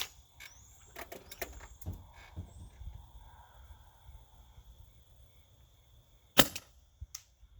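An MG100 rifle fires at a target outdoors, with a few faint snapping shots and one sharp, louder crack near the end, alongside steady insect chirping in the background.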